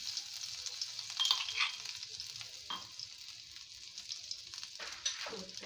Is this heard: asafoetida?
yes